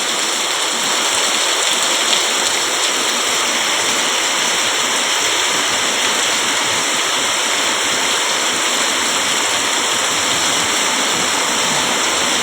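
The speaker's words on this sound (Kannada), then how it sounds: "ನೋಡಿ ನೀರು ಹರಿಯಾಕತ್ತೈತಲ್ಲೇ" Constant, loud rushing of flowing rainwater, an unbroken roar like a swollen stream, steady throughout with nothing else heard.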